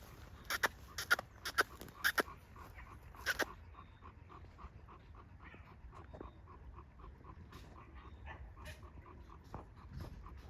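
A dog pants softly nearby, short quick breaths in a steady rhythm, with a few sharp clicks or taps early on.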